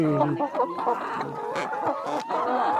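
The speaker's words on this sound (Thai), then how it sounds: "าเบิ่งไก่ยายแก้วจังหน่อยกันนะ" Chickens cluck in a farmyard where eggs are being collected, with repeated close clucks and calls going on with no talking.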